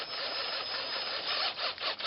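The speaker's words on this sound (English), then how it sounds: "I start off with my 6-inch trap bed auger. I push it down in, and I start off on slow speed." A 6-inch trap bed dirt auger bores into the ground at slow speed, giving a steady, close grinding whir that wavers and dips in strength toward the end, with no voices.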